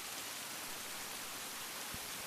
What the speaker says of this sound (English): I listen to the sound of the rain.